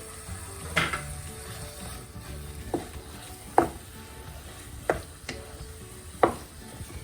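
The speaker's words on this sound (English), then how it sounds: "now I add the paneer and let's mix it" Paneer being stirred into bhurji in a pan, a few distinct scrapes and clinks of a utensil against the pan at irregular intervals over a steady low sizzle, with no talking.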